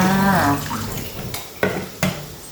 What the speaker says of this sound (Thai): น้ำล้างกล่องกะทิจ้า